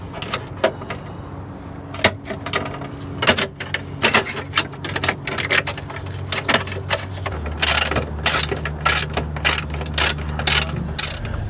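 Bolts are ratcheted in to fasten the skid plate back onto a Subaru BRZ/GR86 during an oil change, with repeated quick clicking ratchet bursts and metallic clanks in irregular runs, up close.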